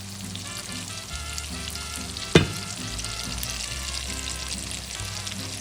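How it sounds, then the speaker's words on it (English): Corn tortillas fry in hot oil with a steady, close sizzling bubble throughout and a brief sharp clatter partway through. "Fry until brown."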